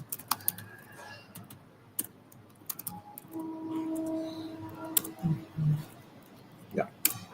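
Keys clatter on a computer keyboard as a git clone command is entered, sharp irregular clicks in short bursts, close and fairly quiet, with a brief tonal murmur and a few louder taps in between.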